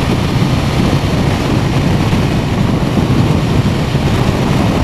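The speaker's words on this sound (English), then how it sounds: "It's quite windy today. Oh, it's blowing all over the place." Loud, constant low rumbling buffet of wind blasting across a motorcycle rider's microphone on a windy day, steady throughout with no other sounds distinguishable.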